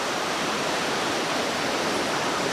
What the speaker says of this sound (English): We're checking out the ocean here.